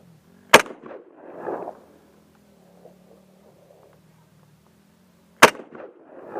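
Two sharp, loud SKS rifle shots ring out about five seconds apart outdoors, each followed by a short rumbling echo from the Tannerite targets, with a low steady hum between them and no talk.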